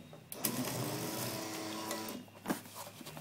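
An automatic screw feeder machine running, a steady close mechanical whirring hum with a few sharp clicks and clacks, fairly quiet with no talking.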